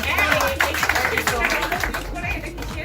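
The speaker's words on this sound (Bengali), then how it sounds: "একটা হাততালি দাও" Several hands clapping in quick, uneven bursts at a child's birthday gift unboxing at home, close and moderately loud with voices mixed in.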